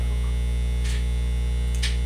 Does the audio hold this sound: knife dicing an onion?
no